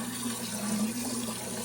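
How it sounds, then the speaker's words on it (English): Old washing machine pump runs steadily, pushing water coolant into an antique Hercules flathead stationary engine, a continuous close hum with rushing, trickling water and no talk. "here's my little archaic little pump out of a washing machine. It moves plenty of coolant."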